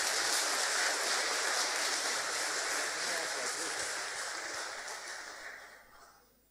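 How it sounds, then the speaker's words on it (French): A church congregation at Saint Jacques in Souillac, Mauritius, gives the visiting priests a sustained round of applause, a dense even patter of many hands that stays loud before tapering off at the end. "un applaudissement pour tous bons invités là"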